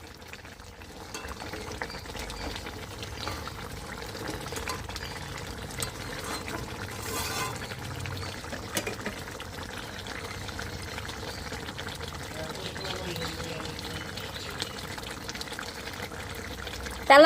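A tilapia fish curry with potato boils in a pot, giving a steady, even bubbling and simmering hiss that runs unbroken at moderate level throughout, with no talking.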